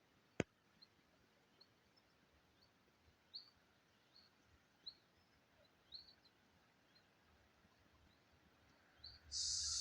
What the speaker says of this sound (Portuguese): Só barulho de pássaros.